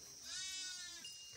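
A sheep bleats once nearby in open country, a single drawn-out wavering cry that is clear but fairly quiet, with no one talking.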